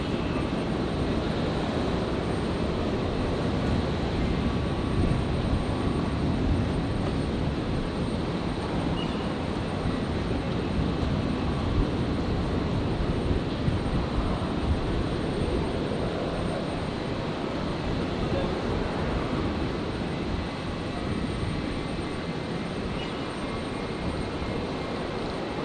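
Jetstar jet airliner at Brisbane Airport giving off a steady, loud broadband engine roar that holds evenly throughout, with no talk.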